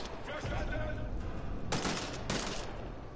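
Gunfire in the video game Wolfenstein The New Order rattles in two sharp bursts over a dense, noisy game soundscape, with a player talking through it.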